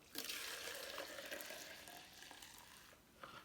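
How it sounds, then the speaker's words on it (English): Soaking solution for cloth sanitary pads poured in small amounts from a small jug into a container, giving a steady, close liquid trickle and splash that eases off toward the end, with no talking. "I think it's going to be okay for me to pour straight into my container"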